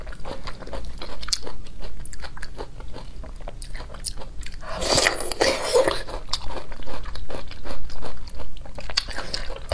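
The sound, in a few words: crunchy brown sugar being bitten and chewed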